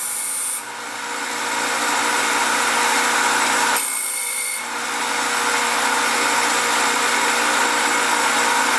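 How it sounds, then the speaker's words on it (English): A pen barrel is pressed against the spinning sanding disc of a belt sander, making a loud, steady abrasive whir with two short dips where the workpiece lifts off and is pressed back. "I decided to use the disc off my belt sander to see how well this works"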